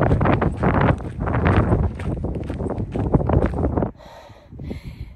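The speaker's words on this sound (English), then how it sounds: "these bursts of wind are pretty scary" Gusty wind roars through trees on a hiking trail, a loud broadband rush that swells and surges for about four seconds, then drops away to near quiet.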